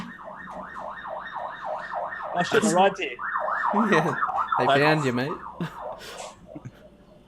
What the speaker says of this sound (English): That's the ambulance coming to collect the dead Anki.